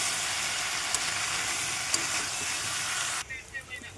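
Taro fries in oil with cumin paste, salt, turmeric and bay leaves, a loud, continuous close sizzle that cuts off near the end, followed by a few soft stirring knocks.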